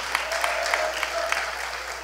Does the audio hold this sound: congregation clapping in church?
yes